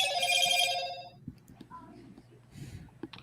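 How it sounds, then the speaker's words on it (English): Telephone ringing with a bright, warbling electronic trill for about a second, then cutting off; faint voices and small room noises follow. "Phone again."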